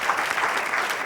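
A studio audience on a televised sports-themed entertainment show claps steadily, a dense, even wash of applause lasting about a second with no speech over it.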